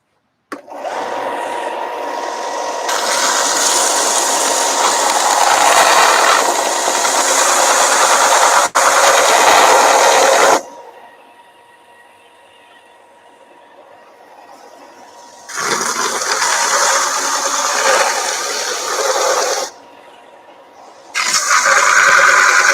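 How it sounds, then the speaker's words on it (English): A belt sander grinds down the jagged edge of a stormtrooper armor part, loud abrasive roaring in long bursts separated by quieter gaps of motor spin-down, then returning for two more passes. "I'm going to belt sand the jaggedy edge down a little bit, make it nice and flat"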